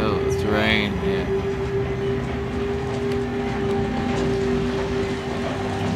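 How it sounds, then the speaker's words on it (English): Rain falling outside in the horror game Outlast, a steady hiss of drops beneath a constant low tone, with a brief louder sound near the start. "Looks like it's raining outside."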